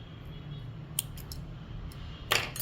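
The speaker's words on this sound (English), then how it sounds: "I'll cut my yarn and pull through and cut off the excess strand." Small scissors snip through crochet yarn, a couple of quick, faint crisp cuts close up over a quiet room hum.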